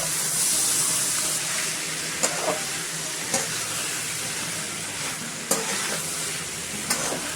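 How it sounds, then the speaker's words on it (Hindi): Green peas being stirred and mixed in a hot pan, giving a dense, even hiss throughout, punctuated every second or so by crisp spatula taps against the metal. "अभी मैं अच्छे से मिक्स कर देंगे।"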